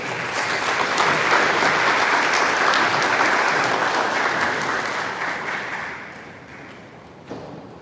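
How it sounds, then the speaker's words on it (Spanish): Strong, sustained applause from a conference audience honouring a professor at a university event, a dense wash of clapping that holds steady and then tapers toward the end, with no talk over it. "otra vez un fuerte aplauso para el profesor."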